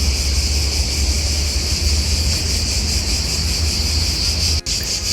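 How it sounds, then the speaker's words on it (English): Loud, steady high-pitched cicada buzzing fills the evening air in Athens, Greece, continuously, a dense droning chorus with a brief dip near the end. "The cicadas are really loud."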